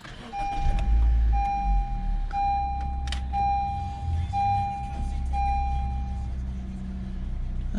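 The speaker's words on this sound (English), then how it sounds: "so we've started the car" A 2014 Honda Civic starts with a low engine rumble that settles into a steady idle, while a dashboard warning chime beeps evenly about six times close by.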